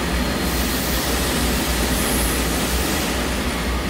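A 2016 Hwacheon Hi-Tech 450CL CNC lathe runs its live tooling at 2375 RPM, giving a loud, steady broadband machine whir with a constant low rumble and no pauses over the few seconds.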